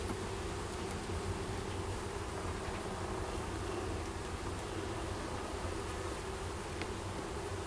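Steady, dense buzzing of many bees, continuous and even throughout, with no talking.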